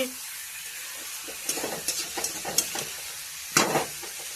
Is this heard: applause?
no